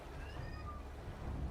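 A cat in Final Fantasy XIV: Dawntrail gives a few faint, thin meows over a low background rumble, quiet and brief.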